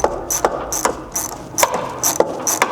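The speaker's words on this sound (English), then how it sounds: "you can tighten the clamp down to the coupler" Ratchet clicking in quick bursts while tightening a hose clamp onto the charge pipe coupler of a 2015-21 Subaru WRX, several short runs of sharp metallic pawl clicks, close and clear.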